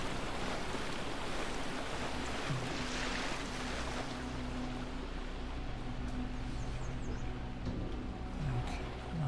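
A waterfall in The Talos Principle gives a steady, dense rush of falling water, a continuous broadband roar with no pauses or voices.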